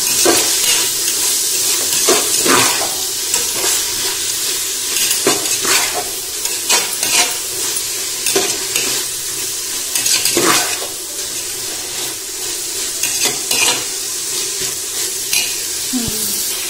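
A handful each of mint and coriander leaves sautéing in a pan for mushroom biryani: a loud, steady sizzle with repeated scraping stirs throughout, close up, with no voices.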